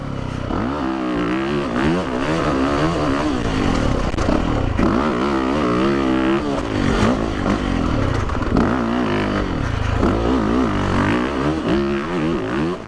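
A 2017 Yamaha YZ450FX dirt bike engine on a test ride, a loud, steady four-stroke roar that rises and falls in pitch as the throttle opens and closes, continuous for about thirteen seconds with no talk.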